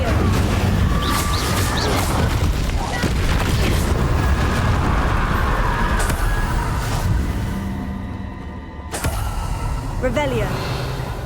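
Incendio spell cast in Hogwarts Legacy: fiery blasts and crashing bursts over a dense, rumbling game soundscape, with sharp impacts scattered through and a brief drop in loudness before another burst near the end.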